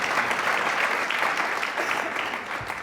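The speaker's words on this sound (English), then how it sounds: "That's why people applaud." An audience applauds at a Robert F. Kennedy Jr. talk, a dense, even wash of many hands clapping that holds steady for a few seconds and eases slightly at the end.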